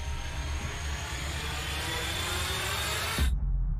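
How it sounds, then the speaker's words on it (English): A helicopter crashing in the Sons of the Forest game trailer: a loud, dense roar of rotor and engine noise runs steadily, then cuts off abruptly near the end, leaving a low rumble. "So the helicopter is crashing."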